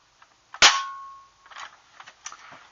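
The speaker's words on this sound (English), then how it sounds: "I'm going to dry fire it for you once," A Huntsman 50 air gun is dry fired once, giving a single sharp, close crack with a short metallic ring, followed by faint handling clicks.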